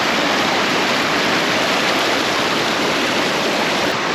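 Floodwater roars through a creek in the Little Devils Stairs gorge of Shenandoah after heavy hurricane rains, a loud, steady, close wash of rushing water with no break or voices.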